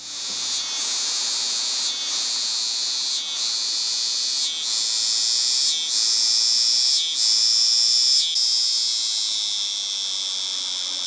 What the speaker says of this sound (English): Ah, cicada.